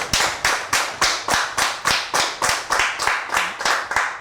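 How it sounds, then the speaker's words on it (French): Rhythmic, unison clapping from a television audience for a makeup contestant in a demi-final episode of a beauty competition show, about nine sharp, evenly spaced claps per few seconds, close and loud with no talk over it. "à qui je demande une main d'applaudissement s'il vous plaît"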